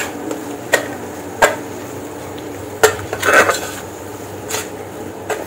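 A spoon stirring pav bhaji masala and red Kashmiri chilli powder in a pan gives a few sharp metallic clinks and scrapes at irregular intervals over a faint sizzle, close up with no talking.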